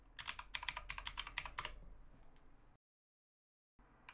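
Password typed on a computer keyboard: a quick run of close, crisp key clicks for about two seconds, then silence before faint room noise returns.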